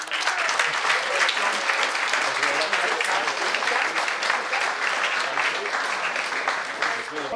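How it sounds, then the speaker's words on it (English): Sustained applause from a large crowd, dense rapid clapping at a steady loud level for several seconds. "Round of applause for Tom Brooks."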